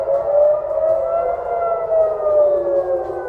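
Air raid sirens wail across Israel, a steady rising-and-falling civil defense tone sustained throughout with slow undulation, fairly loud and continuous with no voices.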